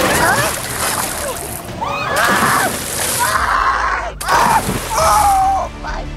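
Water splashes over riders on a Disneyland water ride, with bursts of spray and sloshing as people shriek and talk loudly in between the surges.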